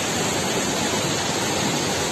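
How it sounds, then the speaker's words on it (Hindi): Steady broadband roar of a waterfall behind a bridge in Pulan Bangar village, Uttarakhand, a continuous rushing wash of falling water at constant loudness with no voices. "झरना है"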